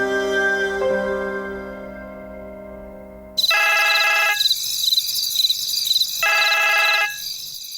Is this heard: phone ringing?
yes